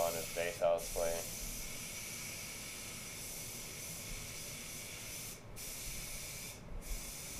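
A spray gun lays a second coat of orange base paint onto a Lamborghini Murcielago, giving a steady soft hiss that continues under brief talk at the start.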